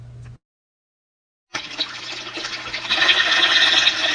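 Fine-gold sluice fed by a deep well, water rushing and hissing through it after a short silence at the start, the flow building steadily louder toward the end.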